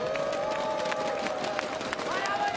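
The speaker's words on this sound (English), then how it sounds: "Great crowd here. The V4 Festival." Esports crowd at a CS:GO match between FaZe Clan and Game Agents at the V4 Future Sports Festival, a steady roar of cheering and applause throughout, with a commentator speaking over it.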